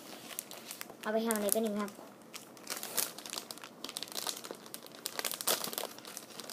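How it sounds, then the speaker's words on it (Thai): Crinkly plastic packaging of a Pocky snack being unwrapped, short rustles and crackles in bursts close up, with someone talking over and between them. "โอเคมาเริ่มแกะกันเลยครับ"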